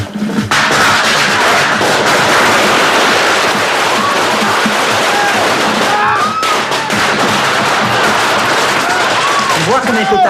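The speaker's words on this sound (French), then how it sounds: "Tu vois que mes pétards marchent bien." Firecrackers go off in a dense, loud barrage of cracks and bangs, nearly continuous, with shouting voices mixed in.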